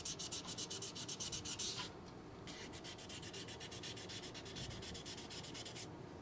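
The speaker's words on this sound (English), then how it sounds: "Sand till you're happy, and then buff it to a nice shine." Sandpaper rubbed back and forth over a McKinley stamp tool, quick rhythmic rasping strokes, close and quiet, pausing briefly before the steady scraping resumes.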